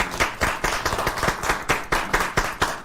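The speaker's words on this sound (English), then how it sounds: "Let's clap." An audience claps at an outdoor public forum, a fast uneven patter of many hands, close and lively, going on without any voices.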